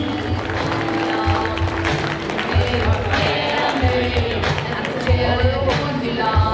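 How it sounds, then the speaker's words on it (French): Audience applauding for the men's podium at a French bouldering cup final in Chaumont, dense sustained clapping with crowd noise and a steady thumping beat of music underneath. "applaudissements pour les hommes de Chaumont, s'il vous plaît"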